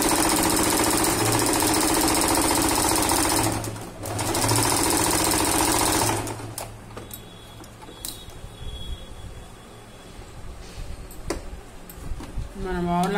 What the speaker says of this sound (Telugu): డబుల్ స్టిచ్ వేసుకుంటే